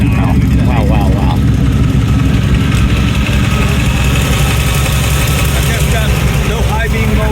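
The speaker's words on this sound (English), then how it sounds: "1961 Ferrari 250 GT. Experimental." A 1961 Ferrari 250 GT experimental car idles at Pebble Beach, a steady, loud engine rumble throughout, with crowd voices and talk mixed in over the top.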